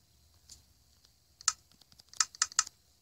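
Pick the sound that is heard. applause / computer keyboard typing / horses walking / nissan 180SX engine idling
computer keyboard typing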